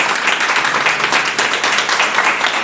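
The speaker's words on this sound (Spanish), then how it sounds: "dale un fuerte aplauso a Dios." Applause at a church service: loud, dense clapping from a congregation fills the room throughout, steady and continuous with no gaps.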